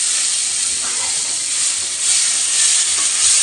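Spice masala sautéing in a hot pan gives off a steady, close hiss and sizzle. It holds at an even level throughout, with no voices over it.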